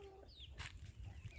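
A chicken clucks briefly amid low rumbling background noise, with a short bright burst partway through; the clucks are soft and fairly close.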